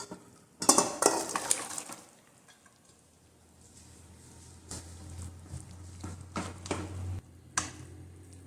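Clattering of a pot and spoon as cooked pumpkin and white beans for a Kerala erissery are scraped and moved into another cooking pot, bursts of clanking and scraping with a low steady hum beneath.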